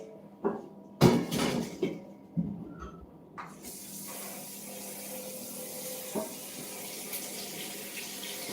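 A kitchen tap runs to rinse freshly harvested garden tomatoes, starting with a few splashy knocks and clatters, then settling into a steady hiss of flowing water that continues to the end.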